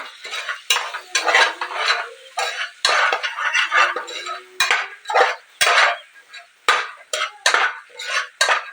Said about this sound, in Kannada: 1/4 ಸ್ಪೂನ್ ಅಷ್ಟು ಗರಂ ಮಸಾಲ ಫ್ರೈ ಮಾಡ್ಕೊಳ್ತೀನಿ